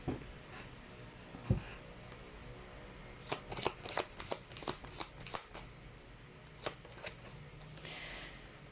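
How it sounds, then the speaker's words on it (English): Chinese fortune cards are shuffled by hand in a quick run of crisp riffling flicks and taps, close and dry, with no speech. "let's try to pull up your Chinese fortune cards."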